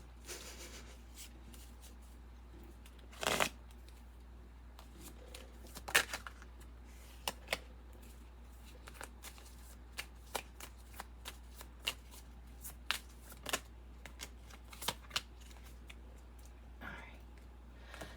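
Quiet tarot card shuffling: soft, scattered riffles and light slaps at irregular intervals, close by, with faint background hum.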